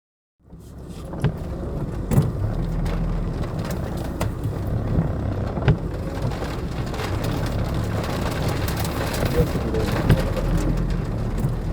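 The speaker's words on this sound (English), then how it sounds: "It started raining about 15 minutes ago." Steady rain falls in a poor, rural area of DR Congo over muddy roads, a continuous dense wash of drops with occasional louder spatters and no voices.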